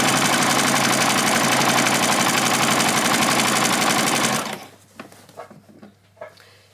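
Sewing machine stitching a row on a child's dress, a loud, steady, rapid mechanical whir running continuously for several seconds, then stopping abruptly and leaving scattered faint clicks and handling sounds.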